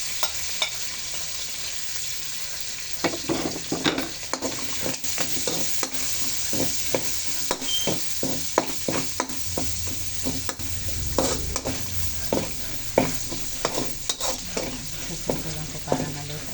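Pork and pork liver sizzle in a pan for pancit bihon, a steady frying hiss broken by repeated scraping clatters of stirring, close and loud, with no talk.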